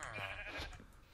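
A pig in the video game Minecraft gives a brief, faint grunt, short and alone with no talking.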